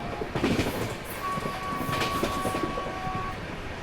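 The Bilaspur Rajdhani Express runs at speed while overtaking the Himsagar Express, a steady rumble with rhythmic clatter of wheels over rail joints and a long sustained horn tone in the middle, heard from inside a first-class coach.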